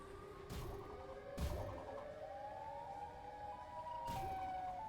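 Siren Head's wailing siren call in Garry's Mod: long, gliding tones that rise and fall steadily, faint and distant, with a few dull thumps breaking through.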